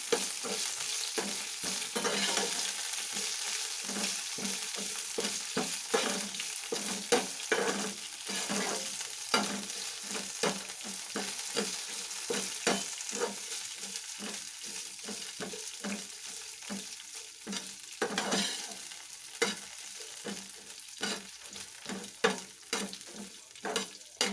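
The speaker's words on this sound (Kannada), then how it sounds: "ಇಷ್ಟು ಸ್ಪೈಸಸ್ನೂ ಹಾಕಿದ್ದೀನಿ, ಜೊತೆಗೆ ಇದನ್ನು ಕೂಡ ಹಾಕಿ ಈಗ ಫ್ರೈ ಮಾಡ್ಕೊಂಬಂದ್ಬಿಡೋಣ" Whole spices fry in a pan for Chettinad chicken gravy, a continuous close sizzle broken by frequent sharp scrapes and clicks of a spoon stirring against the metal, with no talking.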